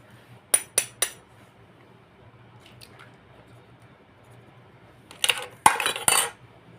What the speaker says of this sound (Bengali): আমি একটা ডিম ফাটিয়ে দিচ্ছি